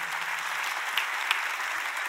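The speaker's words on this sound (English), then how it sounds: "clap your hands" A church congregation claps hands together, a dense steady wash of applause that stays even and fairly loud for its whole length, with no speech over it.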